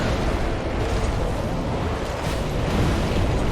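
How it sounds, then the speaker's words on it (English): Firebomb blasts in Dark Souls 3 merge into a dense, continuous fiery roar that stays loud and steady with no clear breaks between bursts. "Alright, now is the time for fire bombs"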